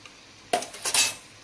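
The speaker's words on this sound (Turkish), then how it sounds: "Şöyle bir karıştıralım." A few quick scraping, clattering strokes of a utensil stirring meat with garlic in a pan, close and moderately loud, lasting about a second.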